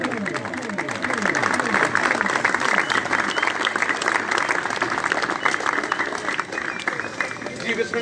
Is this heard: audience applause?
yes